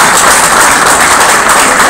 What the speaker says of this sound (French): Donc je voulais juste demander un gros applaudissement à Monsieur Davis.